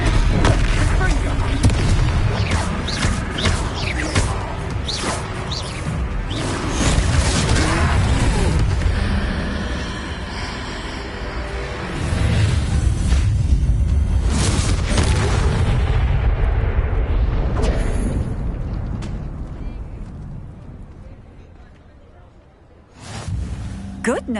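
Confringo explosive spell blasts going off in the Hogwarts Legacy video game during a fight with a troll, repeated heavy booms and crashes over several seconds, mixed with shouted spell casting and in-game voices.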